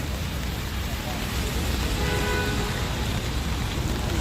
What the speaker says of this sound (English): And it's raining, so everybody's got their umbrellas open